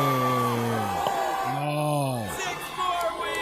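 A crowd boos and yells with long, sliding, drawn-out voices, loud and close, at an outdoor winter Groundhog Day shadow announcement. Bursts of cheering and shouting rise and fall.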